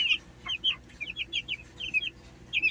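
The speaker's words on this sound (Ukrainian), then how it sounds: "І ось, друзі, вже отакі курчатка." Young chicks cheep in a quick series of high, thin peeps, several overlapping chirps close by over a faint background hum.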